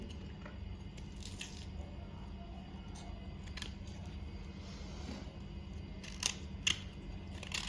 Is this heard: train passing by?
no